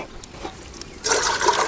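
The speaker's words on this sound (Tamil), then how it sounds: "தண்ணி ஊற்றிக்கலாம்." Water being poured into an idli steamer pot in a home kitchen while ragi idiyappam is prepared; a soft trickle gives way to a fuller, steady splashing pour for the last half-second.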